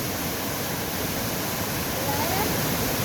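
Mt. Maarat Falls in San Mateo, Rizal pours as a steady, dense roar of falling water, loud and unbroken throughout with no distinct events.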